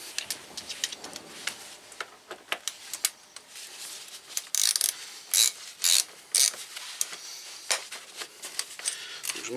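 A ratchet undoes a Torx 40 screw on a BMW R1200RT LC motorcycle during rear wheel removal, giving rapid clicking runs with louder bursts in the middle, close and clear.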